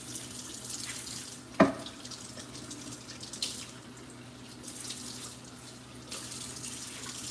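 Cold water runs steadily from a kitchen tap during okra prep, a continuous close hiss with one sharp knock partway through and no talking.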